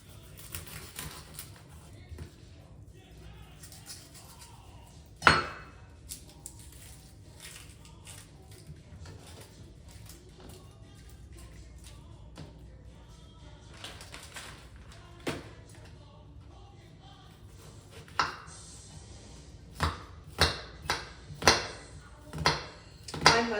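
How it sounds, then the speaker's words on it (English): A knife slices onion halves on a board: faint, scattered soft taps, then a quicker run of sharper cuts near the end, all over a quiet background. "I'm just slicing the halves as quickly as possible so you don't have to see me cry from these onions"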